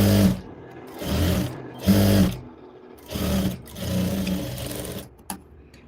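Sewing machine stitching a blouse seam in several close, loud runs of rapid mechanical whirring, separated by short pauses and ending with a few clicks.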